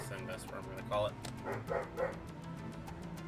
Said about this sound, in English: Sorry about the noise. You know how dogs are.